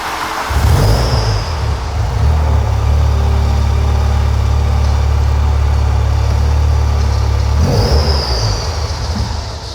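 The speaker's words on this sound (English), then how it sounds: "Oh, I've got a fuel pump noise now." Volkswagen Golf GTI rally project engine running steadily at idle with a constant low drone and a faint high whine from the fuel pump, a fault noise, continuous and close throughout with no talk.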